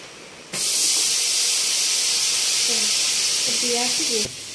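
A pot boiling and steaming, a loud sustained hiss that starts suddenly and stops abruptly, with a person talking faintly underneath.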